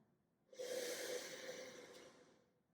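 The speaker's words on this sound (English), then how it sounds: "time for a big breath. Breathe in and out." One long, close breath rushes steadily in and out for about two seconds, breathy and airy, with no talking around it.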